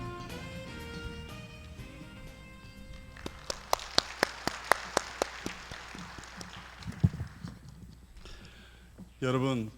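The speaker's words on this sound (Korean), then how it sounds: "장관님을 따뜻한 박수로 맞이해 주십시오" An audience at a 2020 oceans and fisheries outlook conference gives scattered applause as the Minister of Oceans and Fisheries takes the stage, with a run of distinct, sparse claps over a quiet room before a louder sound at the end.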